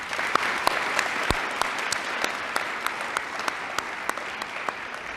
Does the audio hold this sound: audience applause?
yes